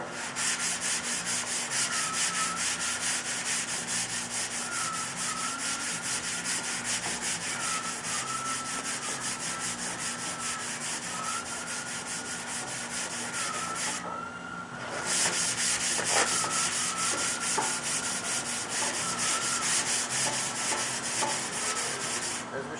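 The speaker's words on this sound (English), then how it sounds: "Let's start sanding." Continuous, steady rasping of sandpaper rubbing back and forth on primer with guide coat over car body metal, with a short break partway through before the scratching resumes.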